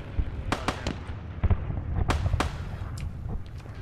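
Heavy artillery fire in a Stalingrad war game, sharp distant blasts cracking irregularly over a low rumbling battlefield background, about eight reports across a few seconds.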